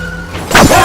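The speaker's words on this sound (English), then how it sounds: "All hell broke loose when a pickup truck sped up and slammed into us from behind." A pickup truck slams into a car from behind, a short loud burst of crashing impact rising abruptly after a quieter rumbling lead-in.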